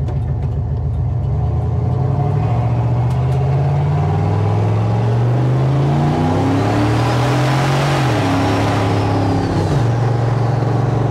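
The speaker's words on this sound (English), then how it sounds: "we're gonna get a little bit of boost on this straightaway here for you" A hot rod car accelerates under boost along a straightaway, its engine note climbing steadily through gears with rising revs, loud and close throughout with a brief dip before pulling again.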